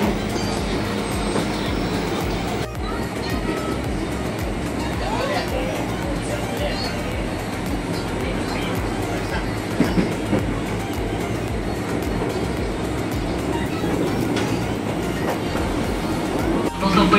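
A KRL commuter train runs steadily along the rails between Jakarta stations, its wheels clicking and the carriage rumbling throughout, with talk over the constant ride noise.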